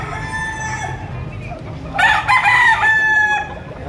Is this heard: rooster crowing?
yes